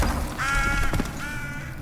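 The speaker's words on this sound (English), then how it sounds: "we hear a crow get startled and fly off." A crow in a remade video game caws twice with a harsh, drawn-out call, with a soft flutter of wings and a thud between the calls as it is startled and flies off. Nearby and fairly loud, with no talking.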